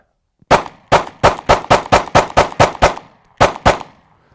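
Springfield Hellcat pistol firing rounds fed from a steel magazine: a rapid string of about eleven loud, sharp gunshots close by, evenly spaced, then a short pause and two more shots.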